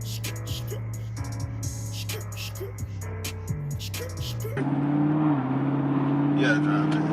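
A 2016 Camaro SS fitted with a Pedal Commander accelerates through several gears, its engine note climbing and dropping with each shift, then settling into a louder, steadier drone as it cruises; heard from inside the car.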